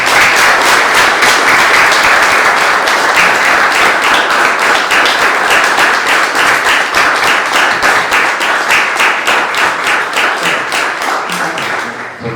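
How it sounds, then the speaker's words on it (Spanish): An audience applauds a woman named Rosy after her personal testimony at a 2021 museum night event, a loud, steady round of many hands clapping that carries on for about twelve seconds and tapers slightly toward the end. "Fuerte aplauso para Rosy."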